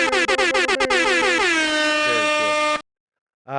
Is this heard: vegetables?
no